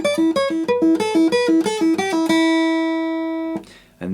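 Basic guitar lick: a quick run of about a dozen picked single notes in a bouncy rhythm, ending on a long sustained note that rings and fades, then a short scrape at the end; no voice.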